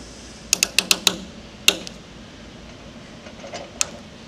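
Pliers squeeze a clamp onto a hose while a Typhoon Blaster is assembled, giving a quick series of sharp metallic clicks and snaps, then a louder single snap and a few fainter ticks, all close against a quiet room.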